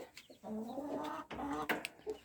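Hens clucking in a hot summer vegetable garden in Nikopol, a few close soft clucks and calls coming in short bursts with brief pauses between them.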